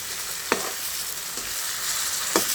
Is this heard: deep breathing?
no